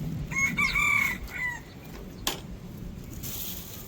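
A rooster crows outdoors among wild fowl, its rising, wavering call ringing loud and close over a steady ambient background, followed by softer clucks and a single sharp click.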